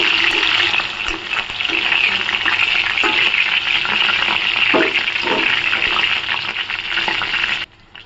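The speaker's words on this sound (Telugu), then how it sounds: "ఆయిల్ హీట్ అయిన తర్వాత పచ్చిమిర్చి వేసుకుందాం." Green chillies sizzle and fry in about two spoons of hot oil in a pan, a steady dense crackle that runs near and loud for several seconds with small pops and stirring scrapes before cutting off abruptly.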